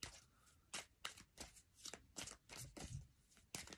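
A deck of cards is shuffled by hand, a run of quick riffling bursts and soft slaps in an uneven rhythm, close and quiet, with no one speaking.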